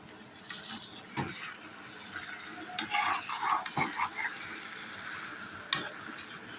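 Taro is being fried with spices in a pan on a home stove, giving a steady close sizzle broken by scraping stirring strokes and a few clinks, with no talking.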